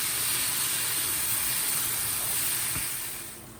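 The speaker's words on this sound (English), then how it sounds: "in here I have the tagliatelle boiling away" A steady, loud broadband hiss of rolling boiling water with tagliatelle in the pot fills the clip, with a faint low rumble and a brief thump near the end.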